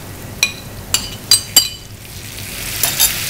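Tomato and peppers frying together in a pan for a verderón dish, a steady soft sizzle broken by several sharp utensil clinks and stirring scrapes against the pan.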